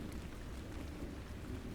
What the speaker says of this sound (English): As the raindrops tap on the window